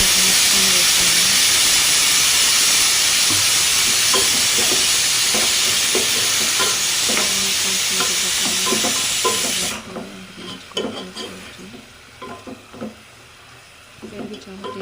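Chicken curry with curd fries in a pan for an Andhra chicken pulusu, a loud hissing sizzle that cuts off sharply about ten seconds in. Quieter clinks and stirring follow, with someone talking throughout.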